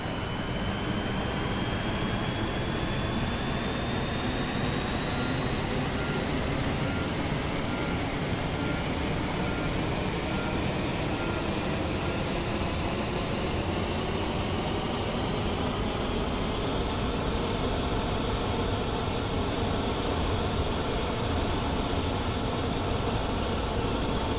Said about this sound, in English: The APU spooling up.